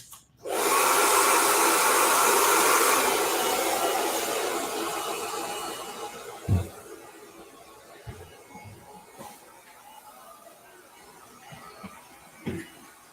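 A hair dryer fitted with a diffuser drying short, fine natural hair roars loud and steady at the start, then eases and fades to a softer hum, with a few brief knocks and handling noises later.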